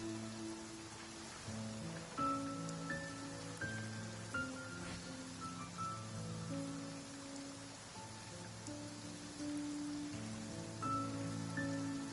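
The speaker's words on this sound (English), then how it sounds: "Taking a stroll in the middle of a downpour certainly rouses the spirit." Rain falls steadily in Genshin Impact, a soft continuous hiss under sustained melodic music tones that carry through the whole stretch.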